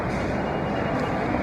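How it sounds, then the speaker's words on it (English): A steady, loud rumbling roar of a train with continuous broadband noise and no clear breaks. "Got my train coming."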